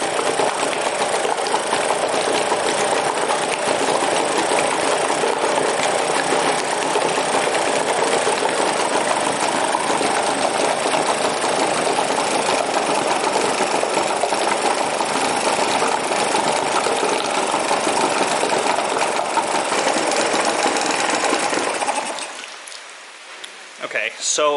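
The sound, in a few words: drowned outboard motor engine running after repair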